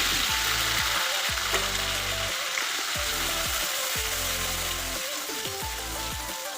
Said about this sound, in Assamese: এতিয়া মই প্ৰথমতে বিলাহী, পিঁয়াজ আৰু কেঁচা জলকীয়া পেষ্টখিনি ভাজি ল'ম অলপমান